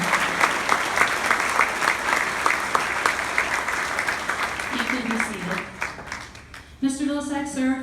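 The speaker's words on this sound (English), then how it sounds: "Please give a round of applause to these men and women who served in Vietnam." An audience at a Veterans Day ceremony applauds Vietnam veterans, with steady crowd clapping that gradually thins and fades, then a voice begins speaking over the last moments.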